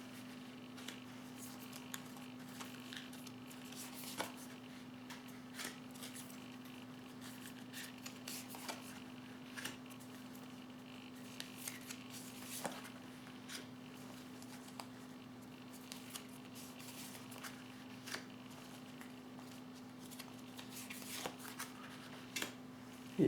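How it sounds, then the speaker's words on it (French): Tarot cards being shuffled and drawn, with soft intermittent rustles and light card snaps over a quiet steady hum. "je vais tirer les cartes pour le masculin"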